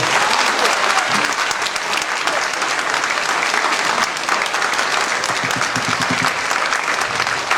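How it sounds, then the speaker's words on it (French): An audience at a musical comedy show in Escaudain gives a long, steady round of applause, dense and even, with a few faint voices mixed in. "merci de l'applaudir"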